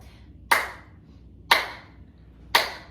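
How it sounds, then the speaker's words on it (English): Three loud, sharp hand claps land one second apart, each standing alone against a quiet room. "let's do 3 good, loud claps"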